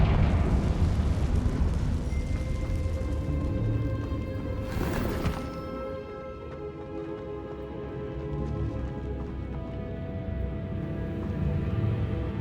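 Confringo blasting spell explosion in the Hogwarts Legacy video game on PC, a loud burst around five seconds that decays into falling debris and rumbling, following dense crackling game noise.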